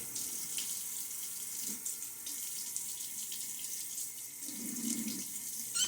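Tap water runs steadily into a sink as a face is wetted before a shave, making a continuous gushing flow with slight shifts in splashing.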